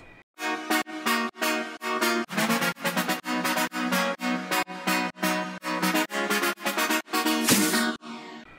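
Layered synth chords for a melodic future house track made in FL Studio, with a stereo enhancer widening them: bright, loud rhythmic chord stabs in a chopped, pumping pattern, alone without talk.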